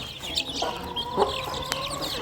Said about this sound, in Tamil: இப்போ மொத்தமாக சேர்த்து ஒரு 40 சில்லற சின்ன கோழி குஞ்சுகள் இருக்கிறது நம்மக்கிட்ட